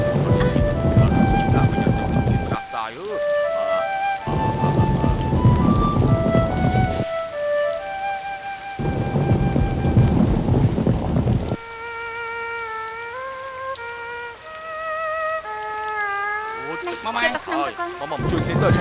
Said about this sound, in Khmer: ភ្លៀងមកហើយ